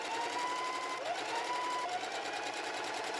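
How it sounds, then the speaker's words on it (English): A sewing machine runs steadily while top stitching decorative shingle lines into fabric, a close, even mechanical whir with rapid needle chatter and slight pitch shifts as the speed changes, with no voices. "I did some decorative top stitching to create the shingle pattern"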